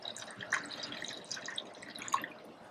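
Liquid potion poured into a Tupperware container in a home kitchen, giving a soft, steady trickle with small drips and splashes over about three seconds, fairly quiet and close, with no talking.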